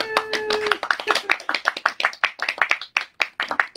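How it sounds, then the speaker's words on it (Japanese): A small audience at the Kakkyoyama float hall during Kyoto's Gion Festival Yoiyama evening claps for several seconds, a lively, fairly close patter of many hands that rises quickly and then thins out slightly. "拍手"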